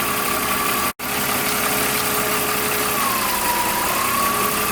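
A BMW E46 M idles with a steady engine hum and a thin, sustained whine from its alternator running over it; the tone briefly cuts out and returns, then drifts slightly in pitch.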